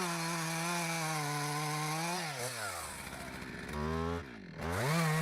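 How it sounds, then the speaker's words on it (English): A chainsaw plunge-cuts into the heartwood of a tree during felling, its engine whining loud and steady, then dipping and bogging in pitch as the bar sweeps deeper, with clean revving between loads and no voices. "The saw plunges deep into the heart of the wood, sweeping in an arc to sever the toughest fibers at the core."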